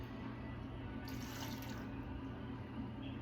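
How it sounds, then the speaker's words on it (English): Water pours steadily into a pressure cooker while pozole is being prepared, a continuous splashing stream heard up close with no talking. "it says add 1 cup of water"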